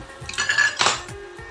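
Cabbage tipped into spinach in a wok (kadai) over a gas flame, a brief clatter of metal on metal with a couple of quick clinks and a soft rustling drop, close and alone.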